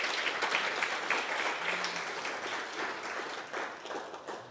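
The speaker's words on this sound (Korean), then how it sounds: "박수 쳐주시죠." An audience at a shared-growth forum in Korea gives warm, sustained applause, a steady wash of many hands clapping that fades slightly toward the end.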